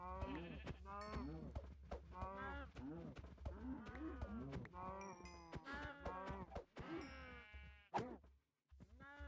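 Sheep in Minecraft bleat repeatedly in quick, overlapping calls, loud and close, with a low background hum and speech mixed in.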